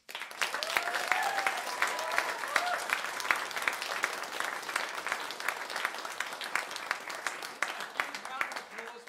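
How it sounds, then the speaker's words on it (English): Audience at a school performance night applauds the performers, a steady burst of many hands clapping with scattered cheers and voices, fairly distant, slowly fading toward the end. "Can we have a huge round of applause for all of the performers?"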